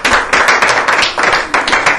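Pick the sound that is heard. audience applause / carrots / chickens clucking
audience applause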